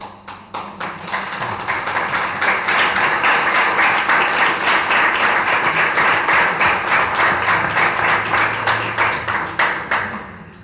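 An audience at a poetry recital applauds with sustained, dense clapping for about ten seconds, heard from a moderate distance with no voices over it.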